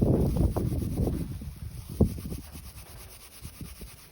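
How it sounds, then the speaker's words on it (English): Wind buffets and rumbles across the microphone in gusts, strongest at the start and easing off, with a brief rubbing thump partway through and no speech. "Wind."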